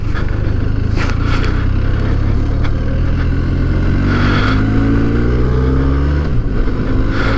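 A Benelli TRK502 motorcycle rides off, its engine droning steadily and loudly with pitch climbing through gears and a drop near the end, heavy wind and road rumble throughout.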